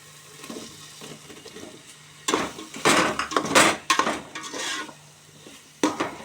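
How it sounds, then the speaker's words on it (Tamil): Cleaned mushrooms being stirred into yogurt and masala for mushroom biryani, with close, uneven bursts of spoon scraping and utensil clatter against a bowl, louder in the middle stretch, and no one talking. "இப்போ நான் க்ளீன் பண்ணி எடுத்து வச்சுருந்த மஷ்ரூம் 1 கப் இது கூட சேர்த்து நல்லா மிக்ஸ் பண்ணிக்கிறேன்."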